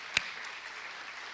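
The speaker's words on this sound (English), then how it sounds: "so let's give them a round of applause." An audience at an education technology keynote applauds, a soft diffuse patter of clapping with one sharp nearer clap at the start, heard from a distance.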